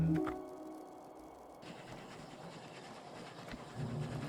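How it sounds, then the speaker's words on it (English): A train in the automation game Oddsparks pulls away from its station, giving a soft rail rumble with light clickety-clack and a hiss of steam at low volume. "So I'm going to send the train on its way."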